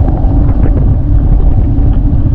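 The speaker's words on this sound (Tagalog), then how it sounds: "Medyo mahangin ang panahon." Strong wind buffets the microphone on a long boat trip out to a fishing spot at sea, a heavy low roar that stays steady and loud for a couple of seconds.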